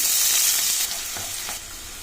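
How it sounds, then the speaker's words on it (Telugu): Chopped onion hits hot oil in a kadai, already holding urad dal and cumin, setting off a loud, steady sizzle that eases slightly after a second, with faint stirring scrapes and no voices. "ఆ తర్వాత కట్ చేసి పెట్టుకున్న ఆనియన్ వేసుకోవాలి"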